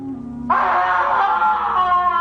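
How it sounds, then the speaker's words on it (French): A drawn-out, wailing human scream of people being sacrificed in a sorcerers' sect ritual rises abruptly after a short low murmur and holds, loud and tonal, until the end. "l'on peut entendre les cris des sacrifiés"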